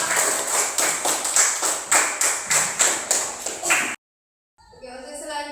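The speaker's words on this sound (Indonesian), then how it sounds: "Oke, tepuk tangan dulu untuk kelompok 1" Classroom applause for a student group, about ten rhythmic unison claps from the class, loud and close, stopping abruptly before a short silence and a trailing sound.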